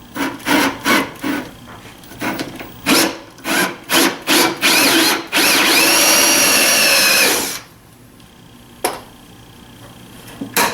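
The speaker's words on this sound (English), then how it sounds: "I've got a depth stop on my drill bit here so I don't go too far" A power drill fitted with a depth-stop bit bores into wood for a tool cabinet, grinding in short rhythmic bursts, then running in one sustained loud push before winding down. A faint click follows in the quiet.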